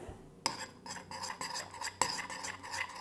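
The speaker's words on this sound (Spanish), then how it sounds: "Y ahora ya empezaba a mezclar con la cuchara." A spoon stirs a homemade fake blood mixture that has just been microwave-warmed, giving faint, close scraping and a couple of sharper metallic clinks against the container, with no voices.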